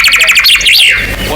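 A recorded chaffinch song: a rapid series of high, bright trilled notes that slide downward in pitch and close with a terminal flourish, heard alone over a steady background hiss.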